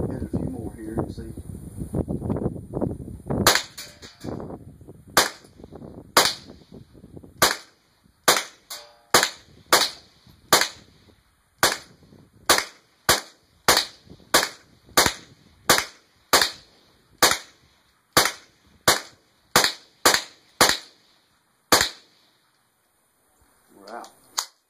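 A Mossberg 702 Plinkster rifle fires about twenty sharp shots at a target in steady succession, loud and close with wind noise, after some opening wind rumble and brief talk.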